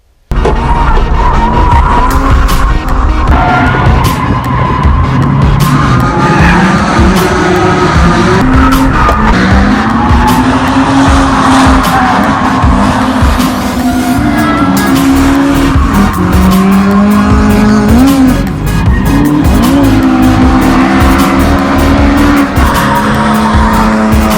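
A drift car slides with loud, sustained tire squeal over a roaring engine, the screech wavering in pitch throughout and steady, close and dominant the whole time.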